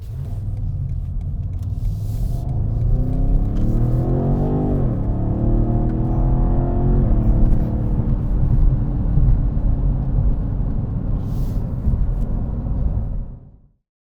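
A BMW M850i with a twin-turbo 4.4-liter V8 rumbles deeply and revs up with rising tone, then settles into a steady drone before cutting off abruptly at the end; close and loud, with no talking.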